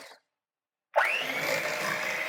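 An electric mixer beats coconut cake batter, starting abruptly after a short silence and whirring steadily and loudly at a constant pitch until the end.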